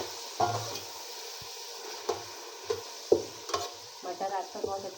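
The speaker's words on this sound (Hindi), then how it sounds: "अब मैं इसमें डाल दूँगी लहसुन अदरक। लहसुन अदरक डाल दिया।" Garlic and ginger fry in a pan with a steady close sizzle, while a spoon stirs and knocks against the pan in several sharp clinks spread across the stretch.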